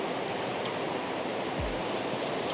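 A river flowing at a remote, rarely visited wild fishing spot, heard as a steady broadband rush of water that runs alone and unbroken throughout, with a brief low thump near the middle.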